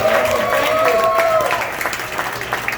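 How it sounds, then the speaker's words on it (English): A big band concert audience claps at a jazz tribute to Broadway, the applause mixed with cheering and a sustained voice or tone early on, fading into scattered clapping. "Sanako, give her a nice round of applause."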